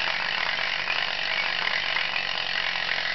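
A vintage 1950s 24-inch wooden gaming wheel on a metal stand spinning, its pegs ticking past the pointer in a fast, even stream of dense clicks, steady and close throughout.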